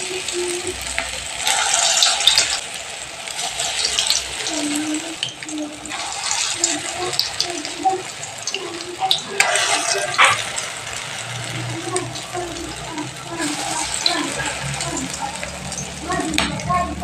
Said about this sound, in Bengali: এবার একই পদ্ধতিতে পরের বড়াগুলো আমি ভেজে নিচ্ছি।